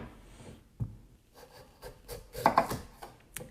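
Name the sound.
knife cutting carrots into half moons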